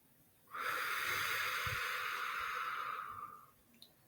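A single long, steady exhale of about three seconds during a guided breathing exercise, close and breathy, with no talking over it.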